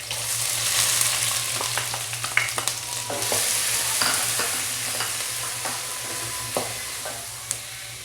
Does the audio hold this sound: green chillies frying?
yes